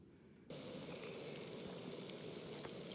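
Mushrooms sizzle steadily in hot oil on a camp stove, a dense crackling fry that starts abruptly after a brief quiet moment and continues evenly, close and fairly loud.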